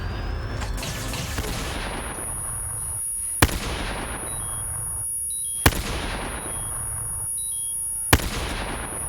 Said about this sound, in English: Now we're gonna start throwing stun grenade.